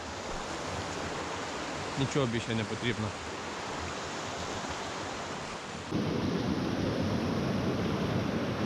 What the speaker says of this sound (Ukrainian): настільки сам шум води розслабляє